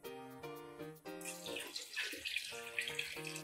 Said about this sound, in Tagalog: Lagay na po natin yung tubig.